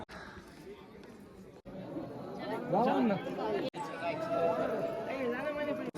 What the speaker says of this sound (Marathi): आज रविवार असल्यामुळे गर्दी खूपच जास्त आहे